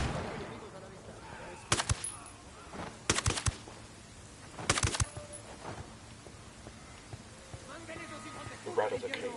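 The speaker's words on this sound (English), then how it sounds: "Okay, throwing a flashbang." Grenade blasts in a video game, three sharp loud bursts spaced about a second apart, set over a steady background of game ambience.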